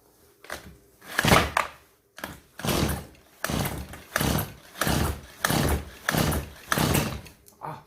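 A Stihl chainsaw under repair is pull-started again and again, giving a regular series of about nine rough bursts close by, with the engine coughing briefly rather than running.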